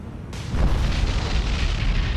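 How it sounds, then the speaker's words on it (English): In War on the Sea, a ship's magazine detonates with a sudden deep boom that swells into a sustained roaring rumble, loud and close. "we got the second magazine explosion"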